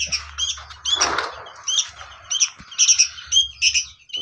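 A sooty-headed bulbul (kutilang) chirps in a series of sharp, bright calls, close and fairly loud, with a burst of rustling or fluttering partway through and short pauses between the notes.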